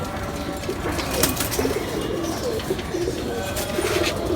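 Loft pigeons, including a Bangladeshi army breed, coo in low, rolling phrases with occasional brief wing flutters, all close by and fairly steady against a soft background hiss.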